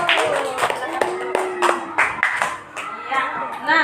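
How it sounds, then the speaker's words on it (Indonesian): In an Indonesian classroom, pupils clap for group 1 after its presentation, with irregular, fairly close individual claps mixed with voices talking over them. "tepuk tangan dulu buat kelompok 1"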